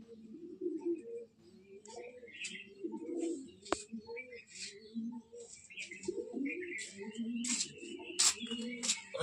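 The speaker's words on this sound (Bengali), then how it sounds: "এই যে বুবাইদার 4টে পায়রা" Pigeons at a loft coo in repeated low, throaty phrases, with chirps and occasional sharp clicks or flutters mixed in, close and continuous.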